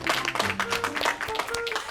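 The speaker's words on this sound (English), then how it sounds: "round of applause for Ranchan" A round of applause from a small group, steady clapping lasting throughout with voices mixed in.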